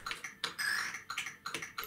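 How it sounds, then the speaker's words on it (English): Rapid clattering keystrokes on a ZX Spectrum home computer's rubber keyboard, bursts of close taps in uneven clusters with brief pauses, heard alone without voices. "Playing games with a real keyboard provides a much nicer and more positive response"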